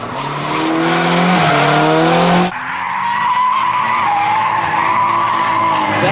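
A drift car slides with loud, sustained tire squeal and skidding, the engine roaring underneath. The sound shifts abruptly partway through, then a rougher skid continues close to the listener.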